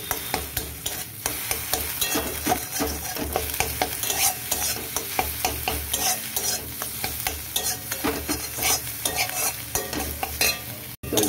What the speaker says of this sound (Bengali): তেলটার মধ্যে এবার আমি ডিম দিয়ে দেবো